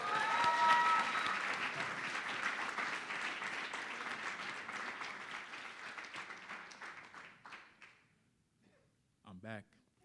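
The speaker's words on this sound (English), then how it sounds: "Can you get one more round of applause for Martial?" An audience at a talk on raising consciousness and building the future gives a warm round of applause, dense clapping that gradually thins and fades out, followed by a brief voice at the end.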